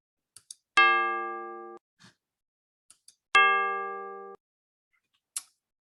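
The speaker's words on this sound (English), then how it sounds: "if I just play you one note on the red bell and the black bell" Two long, ringing bell tones struck one after the other, each with a bright attack and sustained shimmering hum, separated by soft clicks and quiet pauses.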